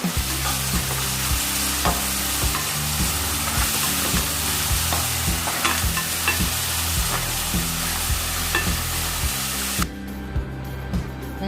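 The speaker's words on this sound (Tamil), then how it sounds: "வெங்காயத்தை நல்லா வதக்கணும்." Chopped onions fry and sizzle in a pan while being stirred, a steady loud sizzle broken by regular scraping strokes of the spoon, then cutting to quieter frying near the end; no talk.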